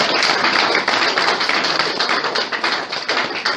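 Congregation in a church clapping, a loud continuous patter of many hands blending into a dense, steady wash of applause with slight surges.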